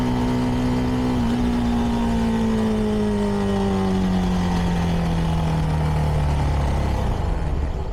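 A CFMoto 300NK motorcycle with its stock exhaust hums steadily while riding, the engine tone sliding gradually lower as it eases off, with constant road and wind noise and no voices.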